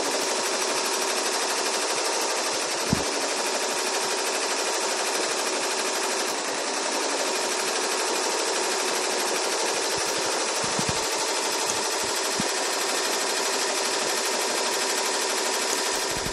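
An embroidery machine stitches a multicolor design with a dense, continuous rapid needle rattle that stays loud and even throughout, with no voices.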